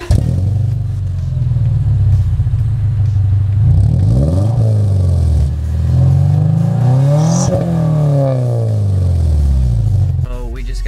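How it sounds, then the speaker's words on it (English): A car with a newly fitted exhaust revs repeatedly, its deep engine note rising and falling in several strong sweeps over a steady idle rumble, loud and close throughout. "the next clip will be an exhaust"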